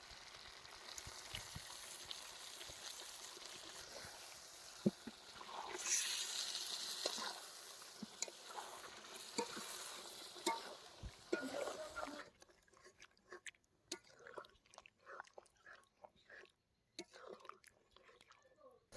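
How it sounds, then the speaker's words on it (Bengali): Chicken pieces cook with yogurt in a pan, giving a soft, low sizzle broken by scattered clinks and stirring knocks. The sizzle fades around the middle, leaving quieter intermittent taps and rustles. "এখন দই দিয়ে মাংসগুলোকে হালকা করে কষিয়ে নেব"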